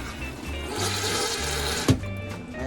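An Airstream trailer's toilet is flushed with a foot lever, a short rushing gush of water with a clunk from the pedal near the end, heard up close in a small space.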